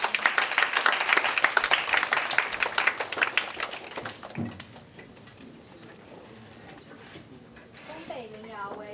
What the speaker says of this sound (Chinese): 让我们一起掌声感谢老师给我们的介绍